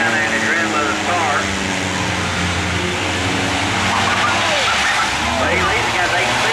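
Race cars roar around the Sayre Speedway oval during a ski car race, several engines overlapping loudly and continuously at wide-open throttle while an announcer calls the action over them.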